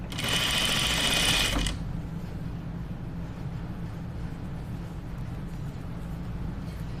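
A sewing machine runs steadily while sewing a French seam, a loud, buzzy whir lasting under two seconds before it stops, leaving quiet room tone.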